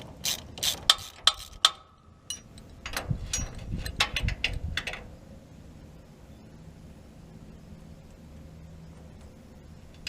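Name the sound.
ratchet wrench being used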